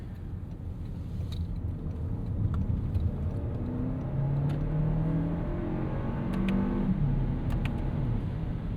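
A 2026 Toyota Crown Platinum turbo hybrid sedan downshifting with rev matching, heard from inside as a steady road rumble with engine tones rising and falling in pitch, moderately loud and without talking.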